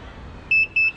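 An electric frunk controller on a Tesla Model S gives a run of short, clear, high electronic beeps, two of them close together after a brief quiet moment.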